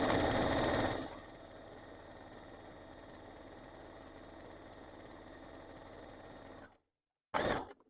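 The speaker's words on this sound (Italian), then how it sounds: "vado a fare nuovamente la stessa cucitura sopra l'altra" An electric sewing machine runs steadily, stitching a seam over an earlier one on a fabric rag doll. A louder burst opens, a continuous mechanical hum follows, then a short stop and a brief restart.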